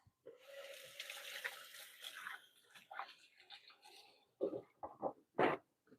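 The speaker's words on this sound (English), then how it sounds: "let me get my hands a quick rinse" Hands are rinsed under a running kitchen tap, a steady splashing flow lasting several seconds, then a few sharper splashes and drips as the rinse ends.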